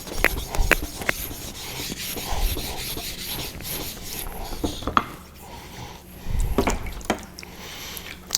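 A whetstone is flattened with a 1,200 grit Atoma plate, giving quiet, repeated gritty rubbing strokes up close, uneven in rhythm and alone.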